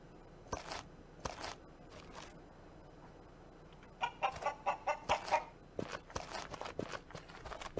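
A farmyard chicken in Ludus, a gladiator school video game, clucks in a quick run of short calls, moderately loud, with a few earlier thumps and no voices.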